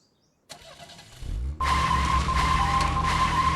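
A car engine starts in the video game GTFO: a short cranking rattle, then the engine catches and settles into a loud, steady idle with a high whine.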